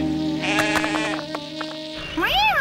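Sheep bleat on top of Greendale Crag in an animated countryside scene: a few wavering, nasal bleats over a steady background, with a louder rising-and-falling bleat near the end.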